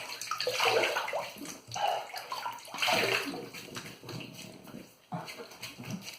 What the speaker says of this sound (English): Let me just wet my face to start.